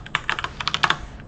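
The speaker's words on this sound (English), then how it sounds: "the longest part of this, by the way, is me typing in the input" A computer keyboard is typed on in a quick, uneven burst of about a dozen light key clicks, close and clear with no talking.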